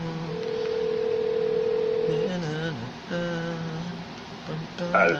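Touch-tone telephone being dialed, a run of DTMF key tones followed by ringing while waiting for someone to pick up, clear and close.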